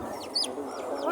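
Chickens cluck repeatedly at a busy poultry market that also sells ducks, pigeons, geese and quail, with short calls stacking over steady crowd hubbub for about a second.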